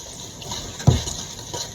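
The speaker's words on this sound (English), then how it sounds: "Then add a little bit of water to it so I don't burn the stuff on the bottom." Water is poured into a cooking pot of leftovers, with a brief splash and gush at the start of the pour, then softer trickling. The pour is fairly quiet and heard alone.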